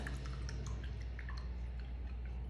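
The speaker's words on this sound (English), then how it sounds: "I'm rinsing my brush off." A paintbrush is rinsed in a container of water, giving faint, soft sloshing and dripping sounds over a steady low background hiss.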